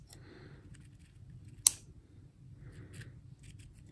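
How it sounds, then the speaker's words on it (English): Scissors snip moss on an Easter dome craft, with a few quiet close cuts and one sharp louder snip partway through, set against a soft background hum. "I think I'm also gonna grab some scissors and trim some moss."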